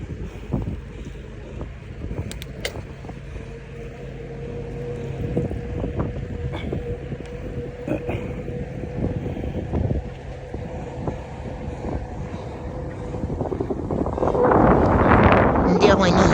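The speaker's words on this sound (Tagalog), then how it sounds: "Hangin lang yung naririnig niya, di ba?" Wind rushing across a microphone on a morning ride, a low, steady buffeting roar that swells louder toward the end, with someone talking over it.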